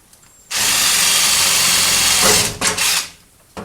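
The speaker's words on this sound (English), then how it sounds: "using my right angle drill, drill the holes." A right angle drill bores a 3/16 inch hole while installing a Honeywell RRD damper: a steady, loud whirring run of about two seconds, then a few shorter bursts as the bit finishes and the trigger is feathered.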